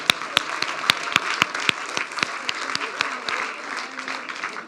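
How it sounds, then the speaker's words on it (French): An audience at a learning-skills conference applauds itself after completing an alphabet exercise, with sharp individual claps standing out over a steady wash of clapping throughout. "Super, bravo, vous pouvez vous applaudir."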